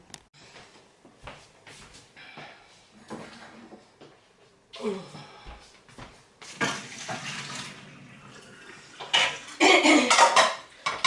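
Cooked carrots are tipped from a pot into a drainer, with scattered clinks and knocks of pans and utensils before water gushes out in loud splashing bursts near the end.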